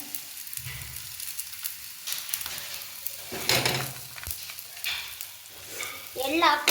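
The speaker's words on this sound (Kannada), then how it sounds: "ಎಳ್ಳು ಬೇಗನೆ ಫ್ರೈ ಆಗಿಬಿಡುತ್ತೆ" Sesame seeds roast in a pan for a bitter gourd chutney powder: a soft, faint sizzle with occasional scraping stirs and light clinks from a spoon against the pan.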